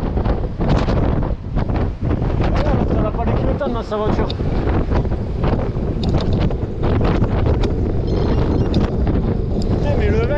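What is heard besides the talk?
wind blowing into the microphone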